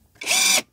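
An Avhrit AH650 cordless lug nut impact wrench gives a single short burst of high whirring motor noise, under a second long, starting and stopping abruptly in a quiet room.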